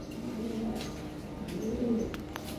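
A pair of red Lahori pigeons, red-beaked and red-eyed, give soft low cooing that comes in two rolling phrases over a steady murmur of background noise.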